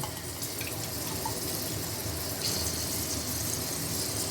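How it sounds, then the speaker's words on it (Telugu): Water pours steadily into rice in a pot for vegetable pulao, a continuous close gushing wash without pauses. "4 డబ్బాలు నీళ్ళు పోసుకుందాం."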